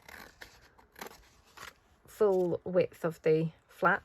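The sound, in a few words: scissors cutting off the folio flap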